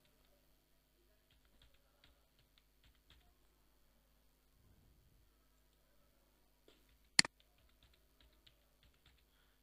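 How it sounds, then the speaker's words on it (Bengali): Password keys tapped on a computer keyboard, soft, scattered clicks at close range with one sharp louder click partway through, in an otherwise quiet room. "পাসওয়ার্ড লিখি"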